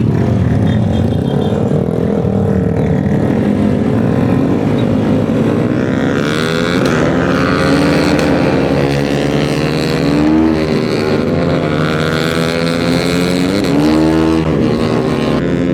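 Loud engines roar continuously and close by, pitch rising and falling as vehicles rev and pass.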